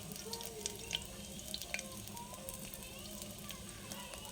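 Sliced onion frying in hot oil with garlic gives a continuous sizzle with scattered pops and small crackles. The sound stays close and moderately loud over the clip.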